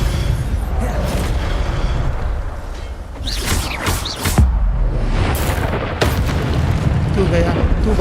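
Ancient magic attack explosions in the game Hogwarts Legacy, a dense run of booming blasts and bursts over a steady rumbling bed, with loud impacts around the middle and people talking underneath.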